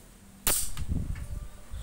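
One sharp, close report from a Java Maddox rifle during an outdoor grouping test in strong wind, followed by a brief rumbling decay and wind noise.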